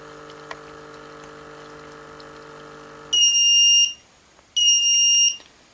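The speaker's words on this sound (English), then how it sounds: "those 2 beeps means it has finished and the light has gone green" A Tommee Tippee Perfect Prep baby formula machine hums steadily, then stops; two long, high-pitched electronic beeps follow, each lasting under a second with a short gap between.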